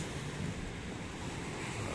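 Ocean waves wash steadily outdoors in a continuous broadband roar mixed with wind noise, constant and fairly loud with no distinct breaks.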